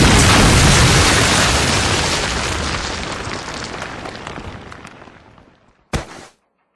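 A grenade explodes in Call of Duty Modern Warfare 2, a loud close blast whose rumbling roar decays slowly over about six seconds before a short sharp burst at the end.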